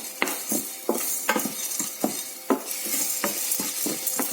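Moong dal roasting in a pan, stirred with a spoon in quick repeated scrapes and taps against the metal over a light sizzle, close up and fairly loud, no speech.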